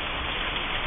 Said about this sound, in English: now it is raining.